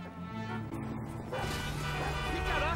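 A dog in the video game GTA 5 barks and yips a few times over a steady bed of game music and background noise.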